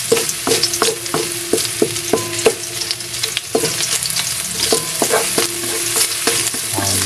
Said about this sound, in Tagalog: gisa-gisahin lang.